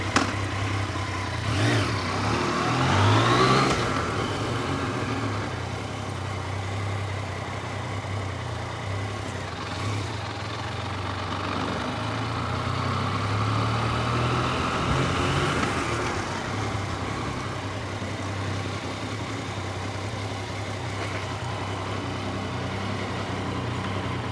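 A Yamaha MT-09 Tracer motorcycle engine runs steadily, with a rev rising early on and a low, continuous rumble throughout, no voices.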